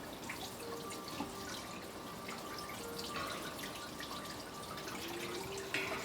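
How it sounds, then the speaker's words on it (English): Water runs and splashes as sumac berries are rinsed into a stainless steel pot, a continuous faint trickle with small drips and clinks, no talking. "So I'm just going to give them a quick rinse and put them in"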